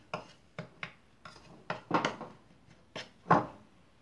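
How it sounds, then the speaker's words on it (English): A marinade of curd, salt, chili powder and coriander powder for paneer tikka is stirred in a bowl, with about a dozen separate clinks and scrapes, irregular and close, alone with no talk. "Mix them well."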